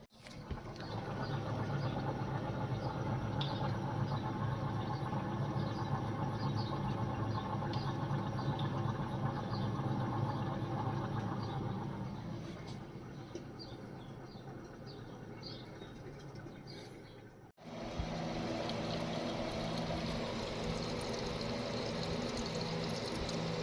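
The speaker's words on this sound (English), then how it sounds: "You can see how that's consistent with the way the pump sounds and surging." A 2012 Ford van's fuel pump runs with a steady droning whir that drops and weakens, cuts out briefly, then starts again at a steady level, heard close without voices.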